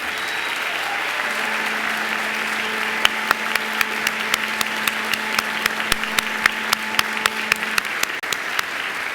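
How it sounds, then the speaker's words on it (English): Graduation ceremony audience in a hall breaks into sustained, even applause from family and friends, steady throughout with sharp individual claps standing out and a faint tone humming underneath. "Now please give them a very large and loud round of applause."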